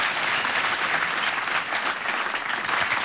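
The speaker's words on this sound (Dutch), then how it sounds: "Jongens, geef ze een applaus." Studio audience applause for guests on a Dutch business television show, a dense, continuous burst of clapping that stays loud and even for around three seconds.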